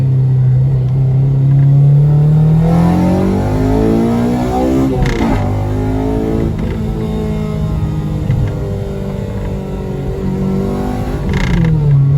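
A Honda Civic with a swapped K20Z3 VTEC engine revs and climbs through the gears with a rising, rasping tone, loud and close, continuing steadily throughout.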